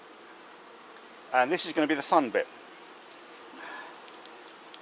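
A honeybee swarm being shifted into a top bar hive hums as a steady, fairly faint buzz, with someone speaking briefly over it partway through.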